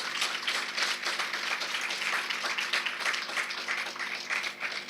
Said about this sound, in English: a wonderful round of applause